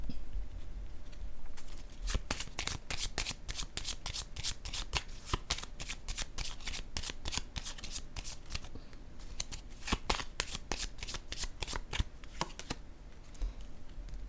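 Playing cards are shuffled and laid down in a tarot-style reading, giving a steady run of crisp riffling snaps and soft flicks that carries on close and clear for most of the stretch, with no talking over it.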